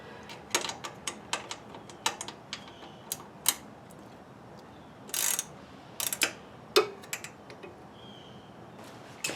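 Ratchet wrench tightening the axle nut on a Harley-Davidson Road King during a flat tire repair, a quick series of sharp clicks in short bursts, close and fairly crisp, with brief pauses between strokes.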